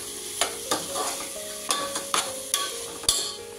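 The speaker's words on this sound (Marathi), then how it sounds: "आणि याच्यामध्ये लगेचच आपण ही भाजी घालूया" Banana flower vegetable hits a hot pan and sizzles, followed by a series of sharp stirring scrapes spaced about half a second apart.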